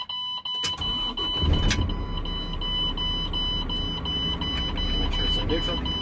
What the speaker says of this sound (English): Now, I would like to safe start the vehicle